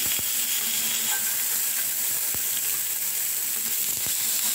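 Tamban fish grill in a little oil, giving a steady, close hiss of sizzling with occasional faint pops and scrapes, no voices.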